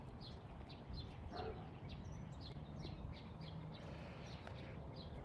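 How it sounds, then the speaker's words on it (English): Faint, distant dog barks repeat in an irregular series over steady outdoor background noise, with occasional bird chirps mixed in. "My neighbor's dogs are over there barking on the fence."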